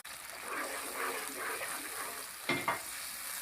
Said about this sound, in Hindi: और मैं इसको मसाले को थोड़ा भून लूँगा